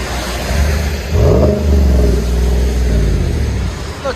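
A 5.3L V8 Chevy Silverado fitted with a Borla exhaust gives a short rev, a deep engine rise and fall heard close and loud, with no talking.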